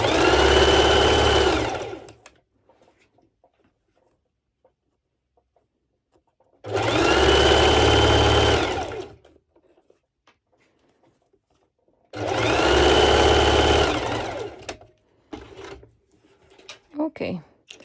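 A sewing machine stitches elastic band onto a mesh sports top in three steady, whirring runs of about two seconds each, separated by quiet pauses with faint handling clicks.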